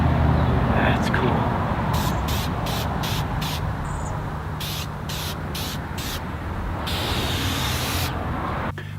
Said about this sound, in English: for the finish, I'm just going to apply several coats of clear lacquer